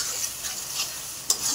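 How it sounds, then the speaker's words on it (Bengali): Tomato ketchup sauce being stirred into a curry in a pan, a continuous bright sizzle with soft scraping and one sharper scrape near the end, close and fairly loud, no voices. "সসটাকেও ভালো করে মিশিয়ে নিল যাতে সুন্দর কালার আসে"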